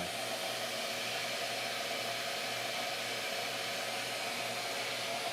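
A Shaper Origin handheld router cuts mortise and tenon joinery, giving a steady, loud, broadband whirring roar with a constant motor whine, unbroken and alone throughout.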